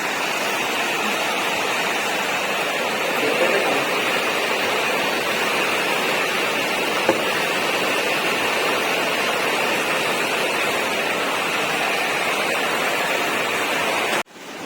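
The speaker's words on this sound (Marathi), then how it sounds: "पाऊस कमी झाला होता वापस आणखीन वाढलाय" Heavy rain pours outside a house, a loud, dense, continuous hiss that holds steady throughout before cutting off abruptly at the end.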